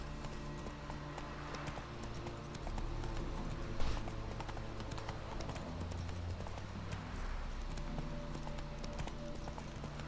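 A horse's hooves in The Witcher 3 video game beat out a steady, continuous clip-clop over a background game music bed, rhythmic and moderately close.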